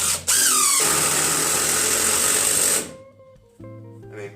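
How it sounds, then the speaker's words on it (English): A Bluetooth-equipped cordless impact driver whirs loudly and steadily as it drives a screw, a sustained high-pitched motor buzz lasting a few seconds before cutting off, followed by quieter clicks and faint handling. "I'm just gonna drill this in this real quick"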